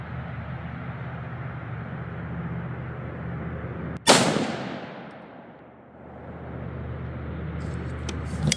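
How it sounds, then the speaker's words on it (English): A single sharp gunshot from a Savage Axis rifle chambered in .243 Winchester cracks out loudly at the range, followed by a long decaying echo over steady outdoor background noise, with no talking. "So let's try another shot here."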